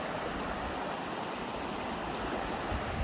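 Rushing water of the Gunpowder River or its creek running beside an old railroad-bed trail, a steady broadband wash that stays close and constant throughout with no voices.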